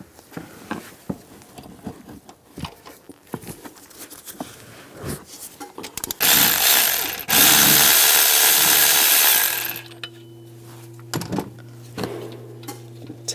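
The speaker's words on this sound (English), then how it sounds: "Just loosen up the bolt." A tool with a 15mm socket loosens the idler pulley bolt on a 1999-2006 Chevrolet Silverado 1500 during a drive belt job. Scattered clicks and taps lead to a loud, sustained powered whir of about three seconds, followed by a low hum and light knocks.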